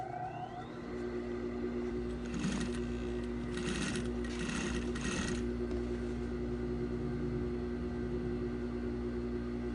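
A sewing machine stitches the corners of a fitted bedsheet with elastic, a steady mechanical whir running throughout with a few louder bursts of fast stitching in the middle, close and alone.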